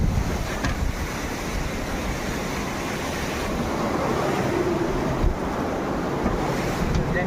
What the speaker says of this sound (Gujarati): પાણી ચાલુ અને પાણીનો અવાજ આવે.